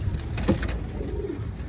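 A pigeon coos once, soft and low, over a steady noisy background.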